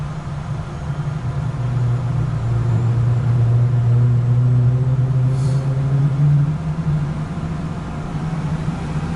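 Single-pilot jet engine lighting off and spooling up during start, a steady loud low hum with a tone that rises over several seconds, then holds and eases slightly.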